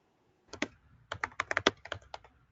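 Quick bursts of typing on a computer keyboard, close and crisp, with a short pause before a denser flurry of keystrokes against a quiet background.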